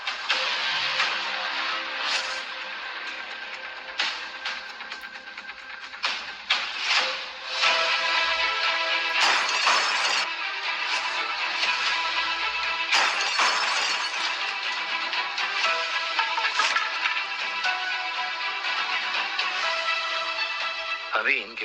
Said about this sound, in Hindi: अभी इनके कार का शीशा तोड़ा है